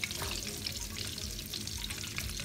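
Garlic frying in butter in a pan gives a dense, even sizzle and crackle, close and constant for a couple of seconds, with no voices.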